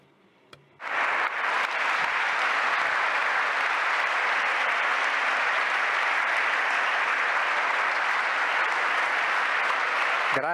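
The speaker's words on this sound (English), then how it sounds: "I think that the applause we're hearing now really show that our conversation with you is something where we've learned" Sustained audience applause at a conference on changes in Italy, starting abruptly after a brief quiet moment and continuing loud and even to the end.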